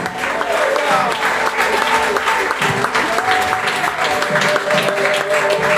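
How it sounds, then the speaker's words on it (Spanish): A church congregation applauds loudly and continuously for several seconds, a thick wash of clapping with voices calling out and a faint sustained tone underneath. "Denle un aplauso grande al Rey de Reyes."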